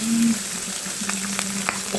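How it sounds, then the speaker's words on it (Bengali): Foli fish fries in hot oil in a frying pan with a loud, dense, continuous sizzle and occasional spitting pops. A faint low hum runs underneath. "মাছটা প্রচণ্ড ফুটতেছে, মানে তেলটা ছিটে হাতে লাগবে"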